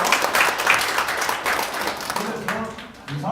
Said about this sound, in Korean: 여러분 박수 한번 해주십시오